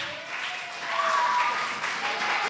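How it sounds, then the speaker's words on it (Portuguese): Young campers at a church youth camp clap for two kids returning to their seats, a short spell of moderate clapping in a reverberant room, with brief whistles or squeals riding over it. "Uma salva de palmas para o Caio e para a Sara, pessoal."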